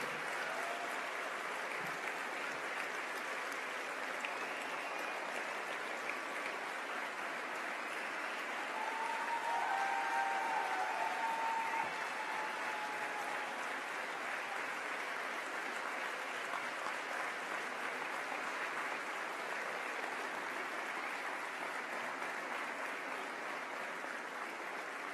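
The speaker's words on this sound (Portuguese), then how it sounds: "peço uma salva de palmas" Steady, dense applause from a large crowd of around 1,200 women at a political rally in Vagos, Portugal, honouring Alda Santos Vítor; a broad continuous wash of clapping throughout, swelling slightly near the middle, with no voices over it.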